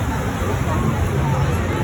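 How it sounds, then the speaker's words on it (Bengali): A huge seaside crowd of thousands hums as a dense, steady babble of voices, with rough surf and wind-like noise blended in, constant and loud throughout with no single voice standing out. "এত লোক গম গম করতেছে"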